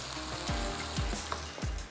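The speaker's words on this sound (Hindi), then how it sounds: "साथ ही साथ थोड़ा सा गोश्त को भी स्टर करते चलते हैं" Meat sizzles and fries in a pot while being stirred, a steady close crackle broken by several scraping stir strokes.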